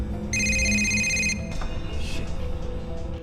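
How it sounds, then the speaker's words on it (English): A satellite phone rings with one electronic trill burst, followed by softer rustling and faint background noise. "suddenly, the phone starts ringing"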